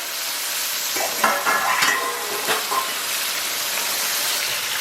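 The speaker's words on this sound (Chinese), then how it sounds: "接下来咱们把肥肠给它下里边。" Pork intestines dropped into hot oil with bean paste in a wok, a steady close sizzle and crackle with a few scraping stirs of a spatula, no talk.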